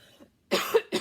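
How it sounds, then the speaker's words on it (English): One person gives a short, close double cough after a brief quiet pause, two sharp bursts in quick succession. "I'm going to cough 1 second here"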